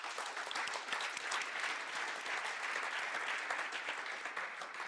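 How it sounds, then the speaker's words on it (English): A conference audience gives sustained, even applause for panel speakers, with dense clapping filling the room for several seconds and no one talking. "please give my distinguished speakers a warm round of applause"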